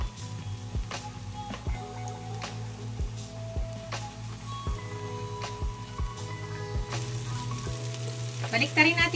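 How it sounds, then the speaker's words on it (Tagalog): Milkfish (bangus) frying in hot oil, a steady close sizzle with loud popping and splattering bursts throughout, growing busier and crackling harder near the end. "ilagay na natin yung ating fish. Ingat po kayo guys kasi tumatalsik po ito."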